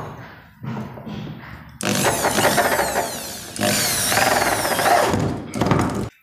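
A power screwdriver tightens screws on a Godrej door closer during installation, heard as several loud, sustained whirring bursts of a few seconds each, with short pauses and quieter handling sounds between them.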